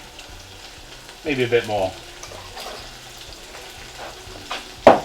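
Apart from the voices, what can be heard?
spices with cayenne pepper frying and being stirred in a pan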